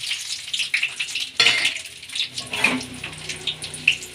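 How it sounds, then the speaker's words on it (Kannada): Garlic and green chillies drop into hot cooking oil in a pan on the stove, giving a close, bubbling sizzle with watery crackles and small bursts throughout. "ಈಗ ಬೆಳ್ಳುಳ್ಳಿ, ಹಸಿಮೆಣಸಿನ್ಕಾಯಿ ಹಾಕ್ಕೊಳ್ಳೋಣ."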